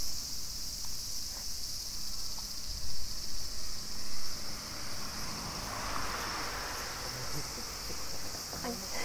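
Cicadas drone in a continuous high-pitched shrill on a summer walk through a residential area in Sendai, Miyagi, with wind and faint background noise under it.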